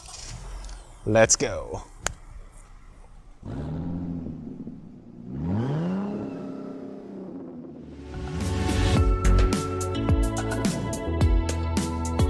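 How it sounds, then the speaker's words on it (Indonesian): A Honda City Hatchback RS engine starts up by remote, a low rumbling idle that swells after a few seconds, with a person talking over it and music partway through. "kita hidupin dulu mesinnya pakai remote"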